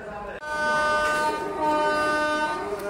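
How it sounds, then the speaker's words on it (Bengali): A Howrah–Ghatshila Jan Shatabdi Express sounds a long, steady horn as it departs the station, loud and close over the rumble of the train and platform noise. "ওই যে ট্রেনের সিগন্যাল দিয়ে দিচ্ছে"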